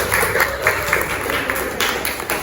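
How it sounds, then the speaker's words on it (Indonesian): A classroom group bursts into lively applause, steady close clapping from many hands lasting a couple of seconds. "Kasih aplaus buat kalian."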